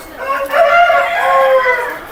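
A rooster crowing in the late afternoon rather than at dawn, on a farm also keeping ducks and pigeons; one sustained, fairly loud crow carries through the whole two seconds, close to the listener.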